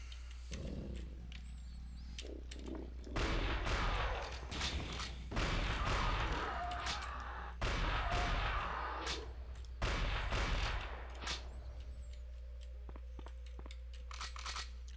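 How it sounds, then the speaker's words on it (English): Shotgun blasts in the first-person shooter Blood II: The Chosen, several heavy booming bursts spaced a couple of seconds apart over a dense game soundscape of thuds and crunches. "Shotguns are pretty good against those now."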